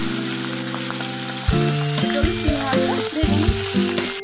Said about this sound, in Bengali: চিংড়ি মাছটা নুন হলুদ মাখিয়ে ভেজে নিই।